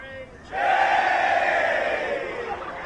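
A large crowd at the 2025 Chinese Grand Prix roars and cheers together in a sustained swell, loud at first and slowly easing off.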